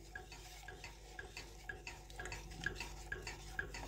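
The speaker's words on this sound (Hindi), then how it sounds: "विस्कर से आप अच्छे से मिक्स कर सकते हैं।" Homemade BBQ sauce ingredients, including garlic powder, are whisked in a bowl. Quiet, steady rhythmic clinks and swishes of the whisk run against the container, with no talking.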